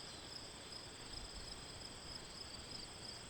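Crickets chirp in a backyard as a constant, faint, high-pitched trill that stays steady beneath a quiet background hiss.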